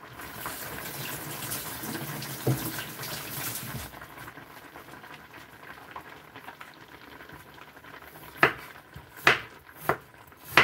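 Tap water runs steadily while ginger root is washed, a continuous gushing hiss that cuts off partway, followed by a few sharp knocks and clatters close by.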